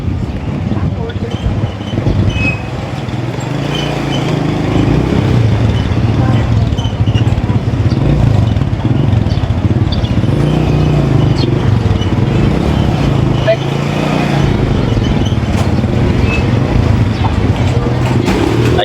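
A motorcycle ride toward a public market in Biñan: steady engine drone and road rumble with wind buffeting the microphone throughout, and a voice talking over it.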